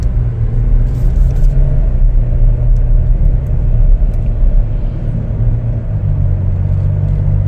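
2023 Chevrolet Traverse LT on a test drive, steady low engine rumble and road hum heard from inside the cabin, smooth and even throughout with no voices.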